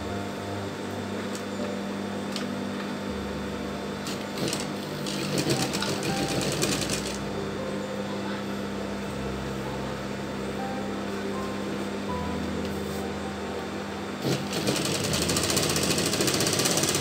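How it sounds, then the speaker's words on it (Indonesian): A sewing machine stitches the back crotch seam of culotte trousers, a loud, continuous rapid mechanical chatter with short bursts of stronger rattling, running steadily throughout over a low motor drone. "sekarang kita mulai untuk jahit bagian pesak belakang ya"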